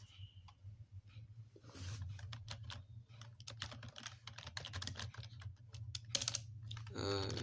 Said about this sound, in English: My typing is improving day by day.